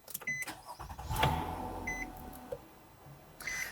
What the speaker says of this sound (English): the engine definitely has a louder growl when it starts up versus the Avalon